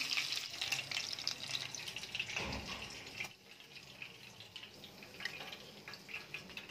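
Seekh kebabs fry in a pan with a steady, close crackling hiss that runs throughout, swelling briefly partway through, with no voices.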